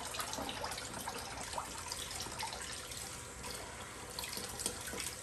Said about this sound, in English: And you just want to run water through it until it runs clear.